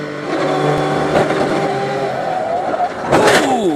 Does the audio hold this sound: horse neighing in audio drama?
no